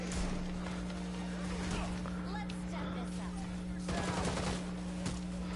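Enemy gunfire in the Gotham Knights video game, rapid bursts of shots scattered over a steady hum of game sound, faint and somewhat buried under background noise.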